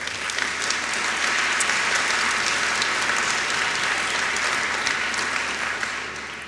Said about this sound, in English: The first panelist is Tarek Nashnash, and a very warm applause.